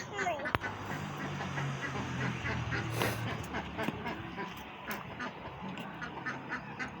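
Pet ducks quack repeatedly in a lively, uneven series close by, with rustling and clatter as food is set out, and people talk over the quacking.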